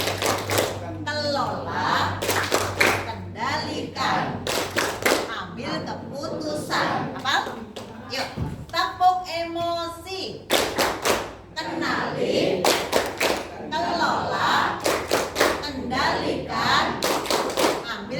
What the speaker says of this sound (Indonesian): coba ya kita tepuk emosi